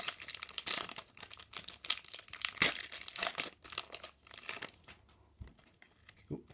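The plastic wrapper of a Cosmic Eclipse Pokémon card pack crinkles and tears close up in a steady, busy rustle, with faint pauses near the end.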